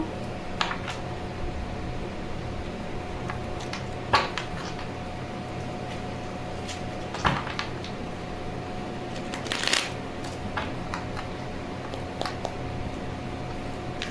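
Tarot cards being shuffled by hand, a soft continuous riffling and sliding with a few sharper snaps and taps of the deck, close and steady over a faint hum, no talking.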